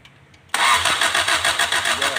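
A Toyota engine, with its contact-point ignition being adjusted, cranks and catches abruptly, then settles into a loud, steady running roar with a pulsing rhythm, close by and alone.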